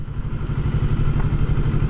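Motorcycle engine running at low speed through a turn on a road, a steady rhythmic chugging throb at close range with no talk.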